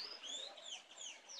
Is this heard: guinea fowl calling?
yes